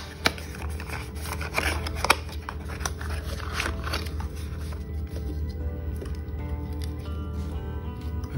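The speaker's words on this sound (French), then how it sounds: "donc je vais en déballer une." A current clamp is unpacked from its packaging, with close rustling, crinkling plastic and a few sharp clicks and snaps, then quieter handling noise.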